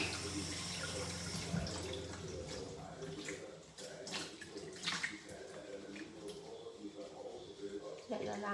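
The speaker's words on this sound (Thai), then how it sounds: "ล้างก่อน" Blackberries are washed under a running tap, with steady splashing water throughout, shifting as hands move the berries, and a person speaks over it.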